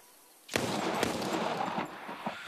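Gunfire in the zombie shooter video game Arizona Sunshine, a loud sudden burst that starts sharply and holds as dense rapid shots with a sustained noisy tail, close and without talk.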